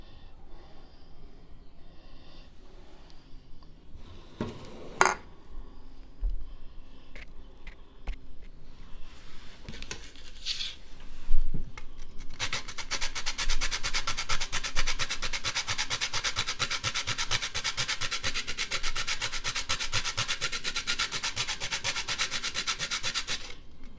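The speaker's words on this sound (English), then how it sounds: "And then my nuts and egg I am going to grate." Nuts and egg being grated by hand: a few scattered handling knocks at first, then a loud, steady rasping scrape that runs continuously through the second half.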